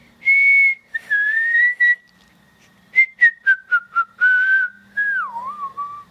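Children whistle a podcast theme tune, a run of clear melodic phrases with short staccato notes in the middle and a sliding, wavering close, heard up close with no talking.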